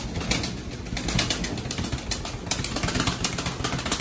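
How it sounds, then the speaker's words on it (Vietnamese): Mondain Tiger pigeons at a home loft, soft cooing mixed with bursts of wing flapping, close and continuous against a low steady engine-like hum. "Cặp bồ câu gà Tiger"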